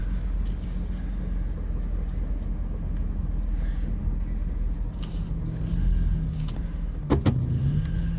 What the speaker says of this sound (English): Here's one of those Ducati vans or whatever it's called.